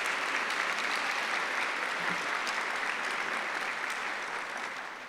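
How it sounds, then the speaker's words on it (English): Audience at a town hall event breaks into steady, dense applause, a continuous crowd clatter that holds evenly and begins to taper off toward the end. "Round of applause for joining us"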